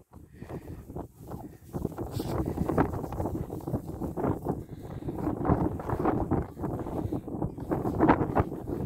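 Gusty wind buffets the microphone in uneven rumbling bursts, loud and close throughout, with no one speaking.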